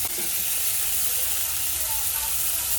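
Prawns fry in oil in a pan alongside potato, tomato, onion, coriander and green chilli, giving off a loud, continuous sizzling hiss that holds steady throughout.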